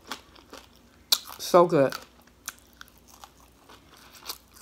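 A sharp crunch of chewing on a crispy fried fish fin, close to the mic, followed by a brief remark and a few softer bites.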